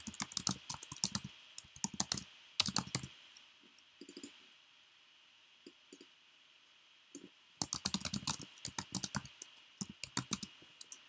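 Quick bursts of computer keyboard typing, rapid clicky keystrokes in clusters separated by short pauses, close and clear with no talking.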